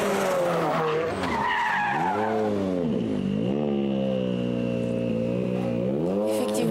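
A rally car on the Tour de Corse, on the start line of the 60th edition, skids past with its engine revving loudly. The pitch rises and falls through gear changes as it sweeps close by, with no voices.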